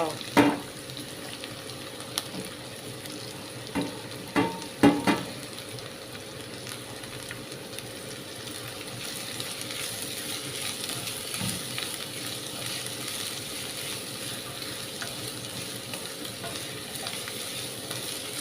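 Finely chopped onions fry in a pan for squid roast, a soft steady sizzle with a few clinks and scrapes of stirring near the start, then an even frying hiss alone.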